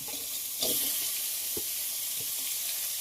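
Chopped bitter gourd drops into a hot pan with curry leaves, setting off a continuous sizzle with a brief louder burst and a few soft stirring knocks underneath.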